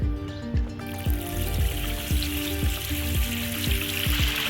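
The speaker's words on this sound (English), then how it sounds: "I see water trickling there" Water trickling from a pond waterfall unit that sits off level, with the pump running, a steady close splashing wash carrying a regular repeating knock roughly every half second, no talk.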